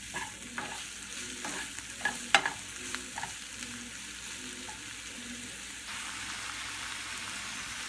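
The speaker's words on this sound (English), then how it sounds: "just keep sauteing this for 3 to 4 minutes" Mushrooms sauteing in a pan on a stove at low-medium heat, a soft steady sizzle broken by several utensil stirs and scrapes, a brief sharper clatter early on, then quieter frying alone.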